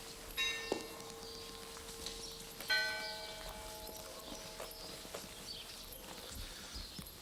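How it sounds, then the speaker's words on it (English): Church bells ring out across a Greek village in the Tsakonian Peloponnese during Easter, with a few separate strikes whose long tones hang and fade. The bells sound distant and fairly faint over a quiet background. "From morning till evening, the bells ring out in all the villages"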